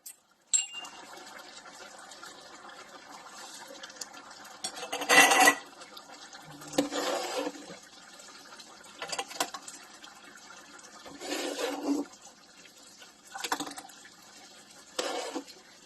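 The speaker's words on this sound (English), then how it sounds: "we can start putting it in our jars." Cucumber jelly is spooned into glass jars at a kitchen counter, with scattered clinks and clatters of glass and utensils over quieter pouring and handling sounds, and no talking.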